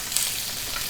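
A ribeye steak sizzles steadily on a Blackstone griddle, a loud, continuous frying hiss with no talk.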